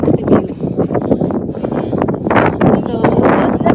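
Strong wind buffets the microphone on a mountain summit at Donnelly's Dome, a loud, continuous gusting roar with rising and falling bursts; a voice is heard over it.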